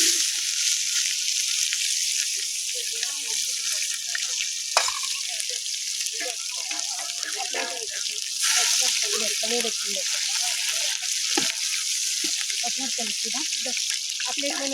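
Onions fry in hot oil for a chicken dish, with a steady, close sizzle that runs the whole time under a person talking.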